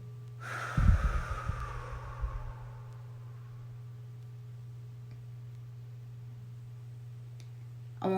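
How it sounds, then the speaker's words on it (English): A person takes one slow deep breath during a relaxation exercise, a close, airy inhale and exhale lasting about two seconds, followed by quiet over a steady low hum. "Take a deep breath."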